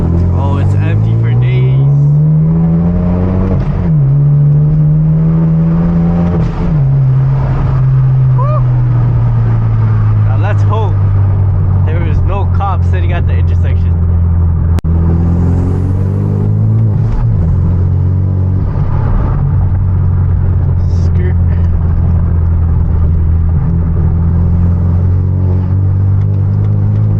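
A manual Hyundai Genesis Coupe with a loud exhaust drives an empty road at midnight. Its engine drones loudly and continuously, rising and falling in pitch through acceleration and gear changes, while people talk over it at points.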